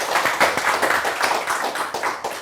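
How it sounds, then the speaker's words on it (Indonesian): After a talk, a small audience claps briefly with close, distinct hand claps in a quick, uneven rhythm. "mari kita beri tepuk tangan yang meriah pada"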